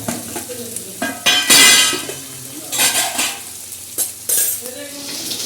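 Okra (bhindi) frying in a pan, with loud hissing sizzle bursts as the pieces are stirred and metal utensils clang and scrape against the pan, close up with no talking.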